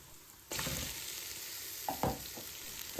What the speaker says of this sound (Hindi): अब इसमें गोश्त डाल दिया।